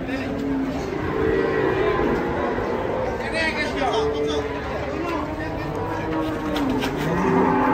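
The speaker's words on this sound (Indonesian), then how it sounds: "Sapi raksasa pagi ini" A giant cow unloaded from a truck at a cattle market moos loudly in several drawn-out calls, with crowd chatter and voices throughout.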